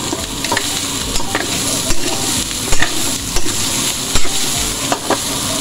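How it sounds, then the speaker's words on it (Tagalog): Pancit canton noodles stirred in a hot pan, with a steady sizzle of frying under repeated scraping and knocking strokes of the utensil, close and fairly loud. "tayo ay maghalo-halo muna nito para magpariyo ang"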